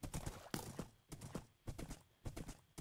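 A fast skeleton horse ridden in Minecraft gives off rhythmic clip-clop hoofbeats, close and fairly loud, repeating in quick uneven bursts without any talking.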